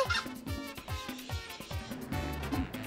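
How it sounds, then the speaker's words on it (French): Parrots call in a Spanish colonial courtyard in the Dominican Republic, giving repeated raucous, overlapping squawks at moderate distance against a light outdoor background. "il y a aussi des perroquets"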